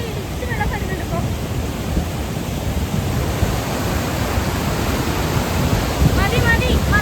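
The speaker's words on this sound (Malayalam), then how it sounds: "ഇവിടെ കൂടെ ഒക്കെ ഇടിച്ച് വെള്ളം വരുന്നുണ്ട് ഇപ്പൊ" River water in Turtuk village rushes over rocks as a loud, dense, continuous roar close by, with wind buffeting the microphone and faint voices in the background.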